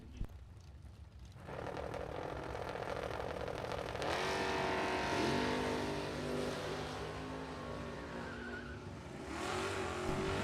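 A 1999 Camaro and a 1971 Maverick launch at a drag strip, engines rising from a low idle into a loud, sustained roar with climbing revs and a brief tire squeal, fading slightly at the end.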